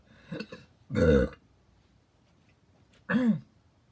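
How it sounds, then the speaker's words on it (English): Three burps in a row, the first short and soft, the next two loud, deep and gurgling, separated by quiet pauses. "Pardon me if I burp. I apologize if I burp."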